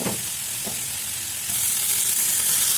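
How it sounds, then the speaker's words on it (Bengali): Chicken with spices and lemon juice frying in a pan, a steady hiss that swells into a louder, brighter sizzle midway, with a couple of soft stirring knocks near the start. "মিক্স করে আর অল্প সময় চিকেন এইভাবে ভাজুন।"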